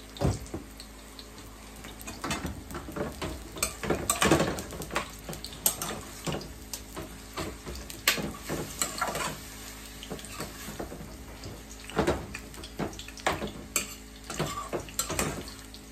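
Butter frying in a breakfast pan with a soft background sizzle, overlaid by frequent clinks and scrapes of a utensil stirring against the metal, irregular and close throughout.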